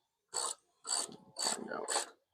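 Ratchet wrench tightening bolts on a 1995 Ford F150's rebuilt air conditioning, four quick close clicking bursts separated by short pauses.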